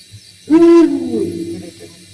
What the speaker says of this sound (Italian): Un gufo reale.